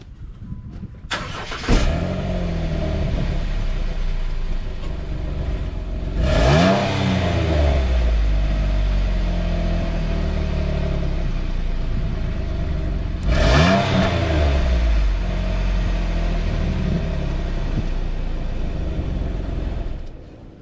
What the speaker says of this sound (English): I'll rev a bit so we hear the sound of the standard exhaust system